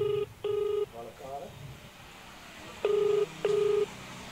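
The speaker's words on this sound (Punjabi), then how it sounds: "ਫੋਨ ਲਾ ਰਹੇ ਹਾਂ, ਪਰ ਉਹ ਲਗਾਤਾਰ ਸਾਡਾ ਫੋਨ ਨਹੀਂ ਪਿੱਕ ਕਰ ਰਿਹਾ।" A phone call to a police outpost goes unanswered: two pairs of electronic ringback tones repeat with a quiet gap between them, and faint voices are heard in the pause.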